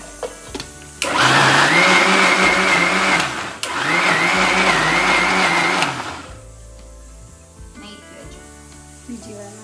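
An electric mixer blending red food coloring runs in two loud, steady whirring bursts separated by a brief pause, then cuts off to quieter clatter and room noise.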